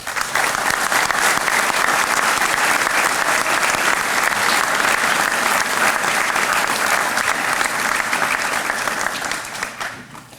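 A large audience at a Saint Paul Fire Department firefighter academy graduation ceremony applauds steadily for about ten seconds, dense continuous clapping that fades out at the end.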